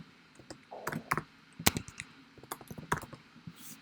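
Typing code on a computer keyboard, a close run of irregular crisp key clicks and taps with short pauses between bursts.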